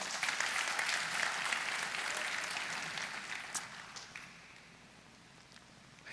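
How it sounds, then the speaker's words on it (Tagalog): Applause fills a rainy church Christmas program, a broad crowd clapping that starts full, thins steadily and fades to scattered claps over several seconds, heard without talk. "Pumalakpak nga tayo sa Panginoon."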